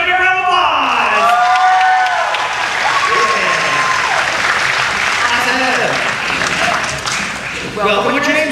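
A circus audience at Silver Dollar City in Branson, Missouri claps loudly and continuously, with cheers and whoops rising over the applause and a voice calling out near the end.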